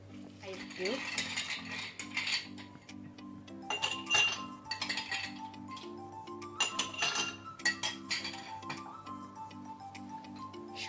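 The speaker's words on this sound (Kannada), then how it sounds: "ice cube," Ice cubes clink and tap against a glass while a virgin mojito with watermelon, lime and mint is prepared, scattered bright clinks over a faint steady tone.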